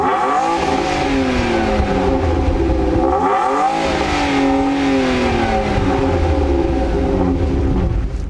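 A 2.5-litre Busso V6 in an Alfa Romeo 156 revs hard, its loud, close engine note climbing and falling in repeated sweeps without a break.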